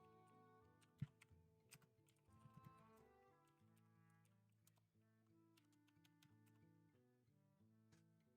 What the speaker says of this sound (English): my mic does pick up my keyboard